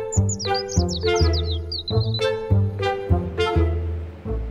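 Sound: birds singing

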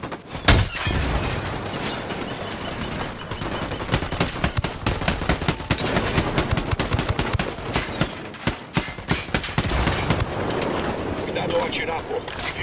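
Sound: machine gun fire in a video game

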